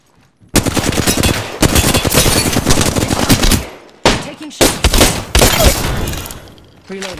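Sustained automatic gunfire in the video game Apex Legends, loud and close, pouring out in long bursts separated by short gaps, with dense rapid shots throughout.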